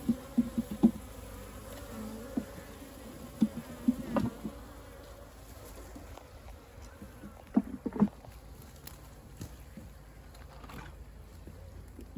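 Honey bees buzz steadily around a hive during an inspection and colony transfer, a low continuous drone with occasional louder passes as individual bees fly near, over faint outdoor background noise.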